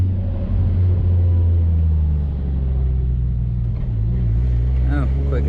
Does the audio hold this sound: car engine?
yes